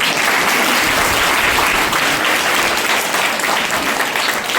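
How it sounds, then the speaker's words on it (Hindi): A room of school children claps together at a school health and hygiene camp, a loud, dense burst of applause that fills the whole moment without any talking. "इसके लिए ताली बजाएं"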